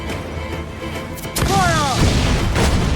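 A ship's cannon booms loudly in Assassin's Creed IV Black Flag, with a heavy blast and crash midway through a naval battle that rumbles and lingers, while whistling streaks trail after it.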